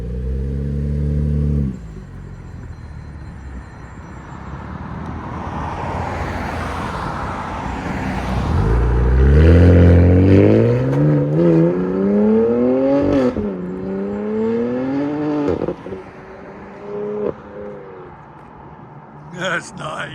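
A 2019 BMW M2 Competition with its 3.0-litre twin-turbo inline-six and Valvetronic exhaust valves open, idling then revving in rising, loud close pulls with crackles at the end, with a person talking over parts.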